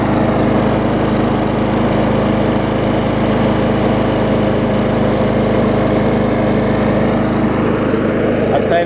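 An old Murray lawn mower engine, revived after sitting unused for years, runs loud and steady with a constant rough drone throughout.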